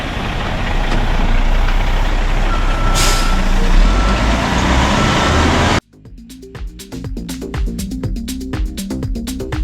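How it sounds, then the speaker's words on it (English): A concrete truck reverses on a driveway job, its loud engine roar carrying steady backup beeps, before the noise cuts off abruptly and gives way to quieter, uneven clatter. "Our second truck is here."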